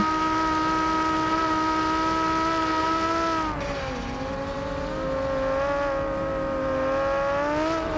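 Formula Three race cars scream past on a circuit, a loud sustained engine note with strong harmonics that dips and shifts in pitch mid-pass, then holds steady as the cars carry on through.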